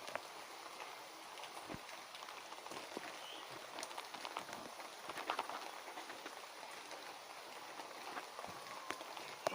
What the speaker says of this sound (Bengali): ঝিরি ঝিরি বৃষ্টি করবে নিচ্ছে, এই যে ঝিরি ঝিরি বৃষ্টি, এই যে।